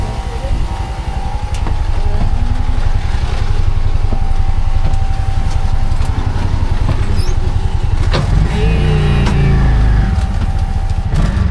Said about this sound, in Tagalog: Nepo Babies tries tricycle in Siargao.